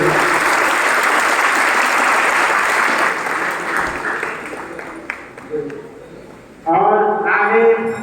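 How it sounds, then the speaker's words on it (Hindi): An audience claps at a student felicitation ceremony at a coaching centre in Chanpat. Dense, loud applause runs for about three seconds, then thins into scattered claps, and a voice speaks near the end. "आप लोग एक बार जोरदार ताली बजा देंगे।"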